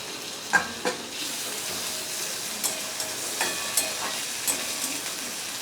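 Chopped tomato and slit green chilies tossed into onion and ginger frying in a pan: a steady sizzling hiss with a few sharp clatters of the spatula, close and without speech.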